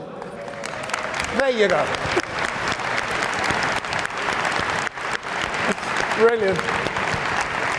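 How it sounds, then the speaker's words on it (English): A conference audience applauds their colleagues with loud, sustained clapping and a few whoops. Someone speaks briefly over the clapping. "Don't you think you should applaud them?"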